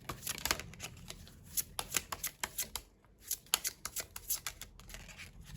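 Tarot cards are shuffled by hand in quick, crisp bursts of riffling and flicking, faint and close, with brief pauses between runs and no voice.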